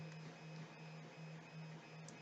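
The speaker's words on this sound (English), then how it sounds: "Let's watch the printer for a while I talk to you guys" A 3D printer runs steadily nearby, its stepper motors whirring with a rhythmic pulsing hum that repeats about every quarter second over a constant mechanical drone, with no voices.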